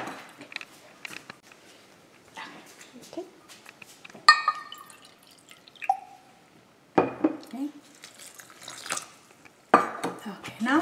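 Water is poured and drips while a homemade bathroom cleaner with essential oils is mixed, heard as intermittent splashes, drips and clinks of containers between quiet gaps, close up.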